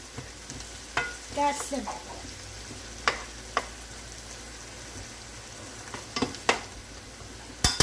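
Mushrooms and red onions sear and brown in a hot pan for Salisbury steak, giving a steady close sizzle broken by a few sharp clicks and scrapes of stirring, with a short spoken remark.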